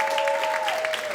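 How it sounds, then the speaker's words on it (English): A brief burst of audience applause at a theatre premiere, steady clapping heard over a held tonal note. "So I want a round of applause to everybody that"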